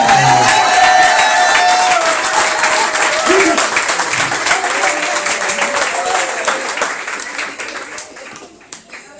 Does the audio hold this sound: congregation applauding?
yes